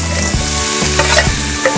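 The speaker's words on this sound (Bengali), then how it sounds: "মাছের মাথাগুলো ঢেলে দিলাম" Fish heads tipped into hot oil for a Bengali muri ghonto, with a steady loud sizzle and a few stirring scrapes and knocks at the pan. No one speaks.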